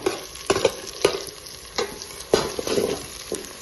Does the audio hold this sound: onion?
yes